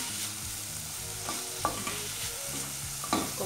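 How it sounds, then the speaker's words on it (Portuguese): Chopped onion sautés in a hot pan for homemade beans, a steady sizzle broken by a few sharp scrapes and clicks of a stirring spoon, close and without speech. "Aí então eu refogo primeiro a cebola"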